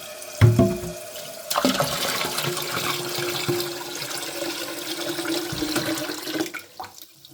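A toilet tank refills after its fill valve was replaced: a steady, close rush of running water fills the bowl and tank after a brief initial splash, then tapers off near the end.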